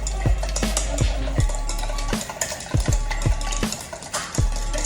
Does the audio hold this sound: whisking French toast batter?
yes